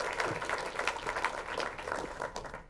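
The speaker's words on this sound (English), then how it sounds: "can everyone give Nidhi a big round of applause?" An audience applauds a pitch presenter at a live event, a dense, even spread of clapping at moderate volume for a few seconds before tapering off.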